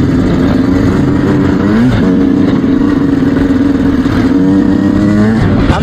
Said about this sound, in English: Gonna take it easy though, gotta warm up the bike.